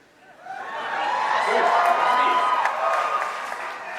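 A large convention crowd at a Star Trek: The Next Generation panel cheers and applauds, swelling quickly into a sustained wash of clapping and whoops with voices mixed in.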